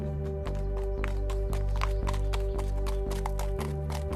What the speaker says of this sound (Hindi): लगातार कुछ घंटे घोड़ा दौड़ाने के बाद